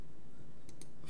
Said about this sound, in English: and then double click here